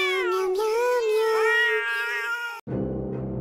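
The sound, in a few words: cats arguing, meowing in the forest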